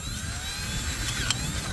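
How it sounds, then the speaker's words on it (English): Power drill boring a hole in the midpipe of a Coffman's Thunder exhaust on a Honda Rebel 1100, a steady close whirring grind with a brief sharper bite near the end. "Try not to drill the hole too much larger in the midpipe there."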